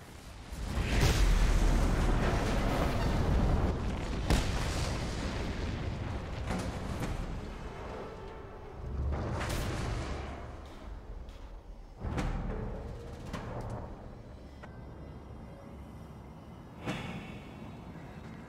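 Explosions in the Mad Max video game, with repeated heavy booms: a loud rumbling burst at the start, then several more blasts at intervals, each decaying into low rumble.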